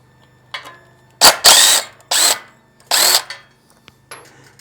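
A power tool backs out the bolts holding a bracket to an engine, firing in four or five short, loud whirring bursts close up, separated by brief pauses.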